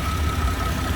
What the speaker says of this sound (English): I'm gonna go start the car now.